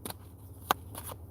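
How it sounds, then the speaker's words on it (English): A deck of cards shuffled by hand, a few quick soft riffling bursts with one sharp snap in the middle, close and quiet in a still room. "I just like the way the cards shuffle in my hands."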